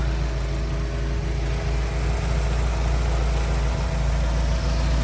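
A 1977 Alfa Romeo Alfetta 2.0 GTV engine idles steadily and close by, giving a constant, even rumble with no talking over it.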